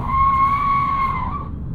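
Tires squeal in one sustained, loud, steady screech as a 2024 Hyundai Kona Electric does a burnout, fading off near the end with no talk.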